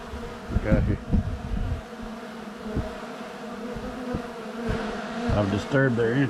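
Bees swarm and buzz around the disturbed entrance of a big old hive inside an abandoned RV, a dense continuous drone close by, with scattered knocks and thumps and a few louder passes near the end.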